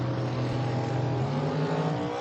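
Double-entry door cars launch together from the line at a bracket drag race, a loud sustained engine roar filling the whole moment with steady high-revving power and no voices.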